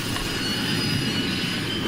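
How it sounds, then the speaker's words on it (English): Steady, loud train noise from a freight engine in a cartoon episode: continuous rumbling wagons and squealing wheels filling the whole stretch, with no talk over it. "Henry the freight engine became Henry the bomb train."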